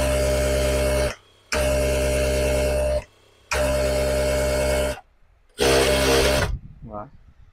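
JUKI DDL-7000A industrial sewing machine stitching stretchy cotton spandex fabric, running in four loud, steady motor-and-needle bursts separated by short stops, ending in a short mechanical clunk.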